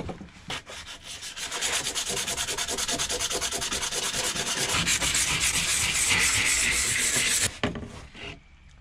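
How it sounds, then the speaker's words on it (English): Abrasive rubbing roughs up the outer surface of a flat Starlink mount on a van before it is glued with adhesive sealant. The close scraping strokes come in a fast, steady rhythm and build in loudness before stopping near the end, with no talking. "I roughed this up just so that the glue that I have sticks as good as possible."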